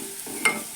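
Turmeric dropped into hot oil for a ridge gourd and soya chunk curry, a soft brief sizzle with one quick hiss burst near the middle.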